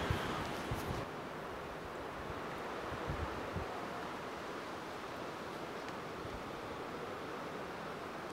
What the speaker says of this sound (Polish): Wiatr wieje.